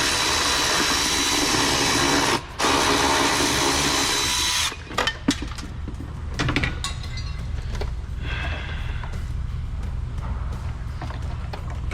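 A power tool works a 10 mm nut on the front end of a Honda Civic, a loud buzzing run that cuts off with a brief pause, then scattered clanks and tool handling.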